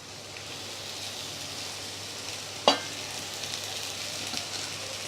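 Cooked rice being stirred into a mango mixture in a pan with a soft, continuous scraping sizzle, one sharper scrape midway, and no talking.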